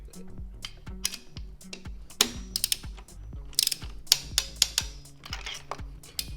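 A ratchet clicks in quick repeated bursts while tightening a spark plug on a VW 2.5 engine, close and crisp, with sharper metallic clicks partway through and no talk.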